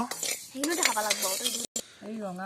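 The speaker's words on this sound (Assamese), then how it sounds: "জুই ফুকাই ফুকাই সান্দহ ভাজি আছে।" Dry rice flour is stirred and scraped around a hot pan while roasting, with soft sizzling and uneven scraping strokes that briefly drop out near the end.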